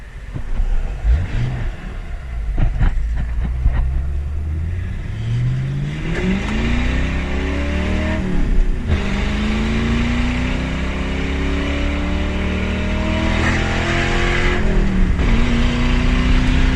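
A car with a muffler delete revs loud and raw, its engine note climbing through several gear pulls as it accelerates away, rising sweeps of exhaust roar filling the street with no voices.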